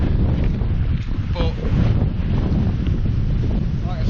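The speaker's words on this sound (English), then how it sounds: "Massive crosswind." A strong crosswind blasts across a lake at a carp fishing spot, roaring in a loud, continuous buffeting rush against the microphone, with waves splashing beneath and someone speaking a word.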